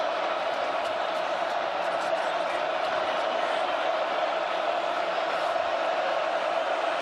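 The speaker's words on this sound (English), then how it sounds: "Penn State crowd winding it up for their defense here on 2nd down and 10." A Penn State football crowd at the Big Ten Championship against Oregon builds a steady, dense roar for its defense on second down, with a continuous wash of noise and no distinct breaks.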